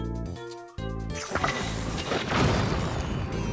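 A bomb blast in Zelda: Tears of the Kingdom, a sudden broadband crash that cuts over steady game music and rolls into a dense rumbling tail lasting a few seconds.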